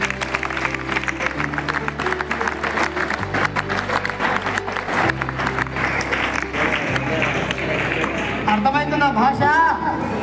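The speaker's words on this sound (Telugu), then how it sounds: "కొట్టండి తేడాకి క్లాప్స్" Sustained applause from a seminar audience at a personality development program, a dense wash of clapping lasting several seconds over continuous background music.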